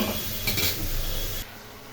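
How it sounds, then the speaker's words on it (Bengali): A lid clatters onto a pot of Bengali cauliflower curry (phulkopir chorchori) in a home kitchen, with a short burst of metallic knocking before the cooking noise drops quieter. "এখন ঢাকা দিয়ে রান্না করে নেব।"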